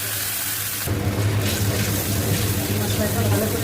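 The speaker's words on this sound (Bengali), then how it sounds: "সামান্য একটু জল দিয়ে দেবো" Water poured into frying spice paste of cumin, ginger, green chilli and cashews for an aair fish curry, giving a steady loud sizzle and bubbling hiss with a low background hum throughout.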